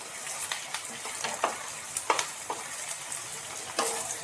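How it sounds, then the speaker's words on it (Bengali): Chopped onions frying in hot oil for a chicken curry, a quiet steady sizzle punctuated by frequent crisp pops and spatula scrapes, close but fairly soft. "তেল গরম হয়ে গেছে আমি দিয়ে দিচ্ছি এর মধ্যে কেটে রাখা পেঁয়াজ"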